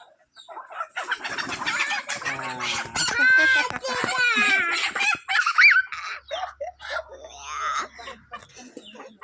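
Hens squawk and cackle loudly in frantic, drawn-out bursts as they are grabbed and caught, with people talking over and between the cries.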